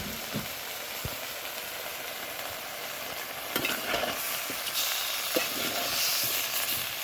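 Marfa, a cucumber-like vegetable, fries in a pan with prawns, giving a steady loud sizzle and hiss with occasional stirring knocks that grows denser partway through.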